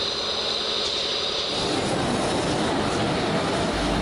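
A train rumbles loudly and steadily at an Indian railway station platform near Mathura, with a dense continuous roar and no break.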